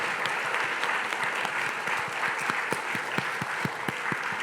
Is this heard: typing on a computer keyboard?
no